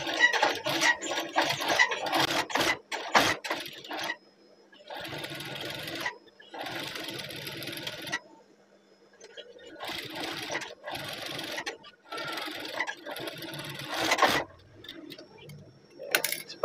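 A domestic sewing machine stitches a uniform shirt, running in several bursts of rapid mechanical whirring separated by short pauses, close and fairly loud.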